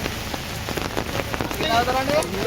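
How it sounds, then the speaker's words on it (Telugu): Heavy rain pours down steadily in a dense, hissing wash of drops on hard surfaces, loud and continuous throughout, with no voices over it. "వర్షం గట్టి పడుతుంది"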